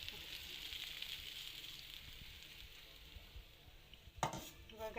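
Hot tempering (vaghar) poured over mashed potatoes and stirred in, a faint steady sizzle with soft stirring, then a sharp clatter of a utensil near the end.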